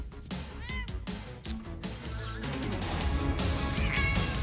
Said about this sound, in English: primarily a cat named Reggie to play Goose, who looks like a cat, but is actually an alien called a Flurkin.